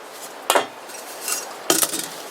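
Metal Trangia cookset pans and pots clatter as they are handled, two sharp clanking bursts close by with a softer rattle between them.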